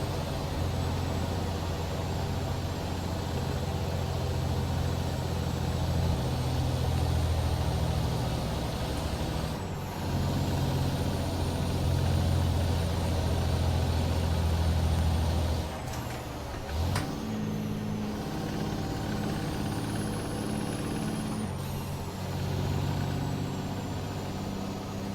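Heavy truck engine hums steadily while driving downhill in American Truck Simulator, a close, continuous drone with brief hissing shifts partway through and no talking.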